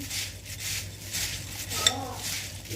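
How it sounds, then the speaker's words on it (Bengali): Puffed rice and shelled green peas being mixed by hand in a bowl, giving soft repeated rustling and light scraping close by, with one brief sharper clink near the end. "সেইটা দিয়ে এখন একটু মুড়ি মাখছি"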